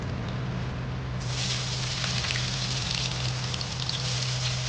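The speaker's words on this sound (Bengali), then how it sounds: "তারপরে এই যে পেঁয়াজ একটু পেঁয়াজ কুচি দিয়ে দিলাম" Chopped onion hits hot oil tempered with black cumin in a Bengali kitchen, preparing kochu loti with prawns, and a steady broadband sizzle swells up and keeps crackling evenly close by.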